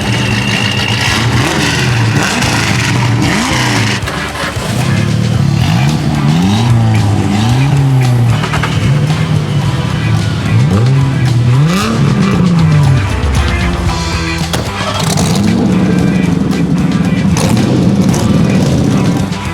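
Cheap $3,500 daily-driver cars race at drag week, loud engines revving and wailing through repeated rising and falling gear sweeps close by, with tires squealing over a constant roar.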